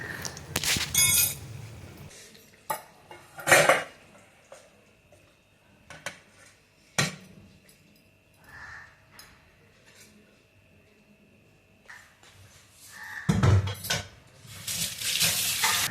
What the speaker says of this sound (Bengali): কড়াইটাকে ধুয়ে নিয়ে পরবর্তী রান্নাটা বসাবো